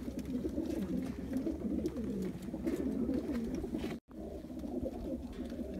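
Blue loft racing pigeons coo steadily in low, rolling murmurs at a shared loft in Qassim, Saudi Arabia, several birds overlapping close by with no talking, broken by one brief dropout.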